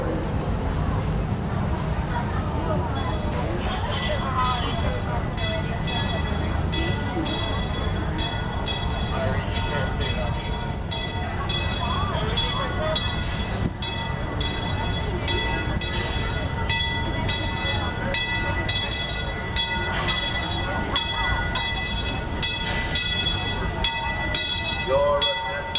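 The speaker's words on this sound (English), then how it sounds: "the Disneyland Railroad now for a complete trip around Walt Disney Magic Kingdom" Disneyland Railroad steam train pulling into the station at Disneyland park, a steady rumbling rail noise with rolling clatter and hissing throughout, with a public address announcement and crowd voices over it.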